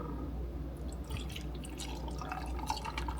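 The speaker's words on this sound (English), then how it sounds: "pour my milk." Milk being poured into a cup for a homemade latte, a steady close liquid trickle with light drips over a constant low background hum, no talking.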